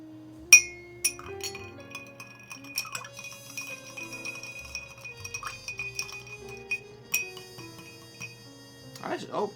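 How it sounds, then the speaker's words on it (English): A drink being stirred in a glass, with light clinks and tinkling rings of a spoon and ice against the glass, scattered irregular hits with a few sharper taps amid quiet background. "And we're going to stir this."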